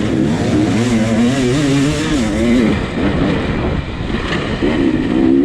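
Enduro dirt bike engine at a hard enduro race, RORR 2019, held at a loud, close, continuous idle and rev with wavering pitch and a brief dip before picking up again.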